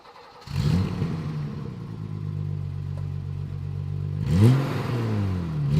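A BMW 325is EVO 1 engine blips once, settles into a steady idle, then is revved twice more near the end, close and moderately loud with no talking.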